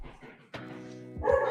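A dog at home barks a few times up close during a live trading stream, sharp harmonic bow-wow calls that follow a short quieter bit of faint voice at the start.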